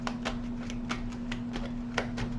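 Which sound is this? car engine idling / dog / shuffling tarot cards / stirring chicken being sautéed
shuffling tarot cards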